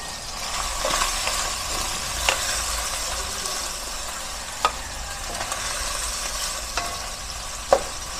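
Chinese chorizo de Bilbao frying in a pan for pancit bihon, with a steady close sizzle broken by occasional sharp clinks of a utensil against the pan and no talking.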